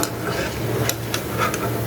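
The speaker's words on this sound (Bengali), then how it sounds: "এই যে এখন এভাবে নেড়ে চেড়ে এটাকে আমি ভাজবো" Kerala pal cake sweets are stirred and fried in hot oil, a close steady sizzle broken by a few sharp scraping clicks of the spoon against the pan.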